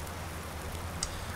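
Steady rain falls in the Farming Simulator 19 farm game, a dense, even hiss with one brief sharp drop near the end, close and continuous with no voices.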